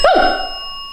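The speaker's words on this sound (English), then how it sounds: "I explained the bell and then the bell rang." A single bright electronic bell chime from an EMF detector rings out with a short swoop at the start, then its tone lingers and slowly fades.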